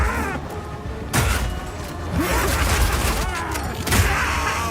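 Piercing Shot skill attack in Path of Exile 2, heavy booming impacts with a sharp crack near the start and further thuds amid battle noise, loud and close, no talk.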